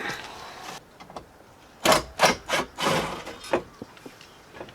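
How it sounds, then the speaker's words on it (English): A screw gun whirs in short bursts while backing Phillips head screws out of the dash of a 2000 Jeep Cherokee XJ, several quick close buzzing runs with brief pauses between. "So let me get a quick screw gun and get that out."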